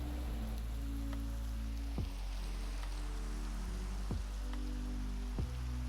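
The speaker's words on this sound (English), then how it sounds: "I hear the rain." Rain falling in a survival crafting video game set in a Sierra badlands biome, a soft, continuous patter over a low steady drone, punctuated by a few brief clicks.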